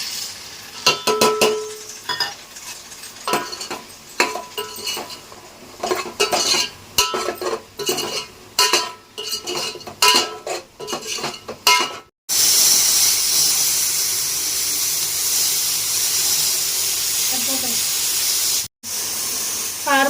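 Chicken pieces frying in a pan with turmeric and masala powder: stirring clatter and spoon scrapes for the first half, then a steady loud sizzle and hiss as the meat fries.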